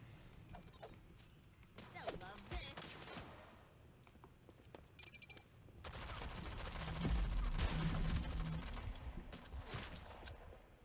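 Gunfire from the online shooter game Rogue Company: scattered shots and bursts, then a dense, loud stretch of automatic fire mixed with impacts and mechanical clinks, with players talking intermittently over it.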